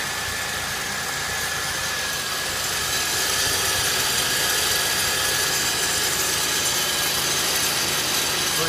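Steady, smooth running of a 2003 Chevrolet Impala 3.4 liter V6 engine, a continuous even mechanical hum with light ticking, close and moderately loud throughout, no voices.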